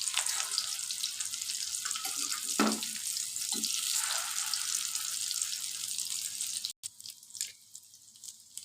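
Shami kebabs made with cabbage fry in ghee in a pan, giving a steady, bright sizzle with a few louder pops before the sound cuts off and thins out to quieter crackling.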